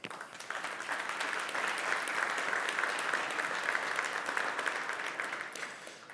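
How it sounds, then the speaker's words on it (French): An audience at a supplier and contractor business day applauds the event's partners, a steady, moderately distant burst of clapping that swells, holds for several seconds, then begins to thin out. "On peut les applaudir"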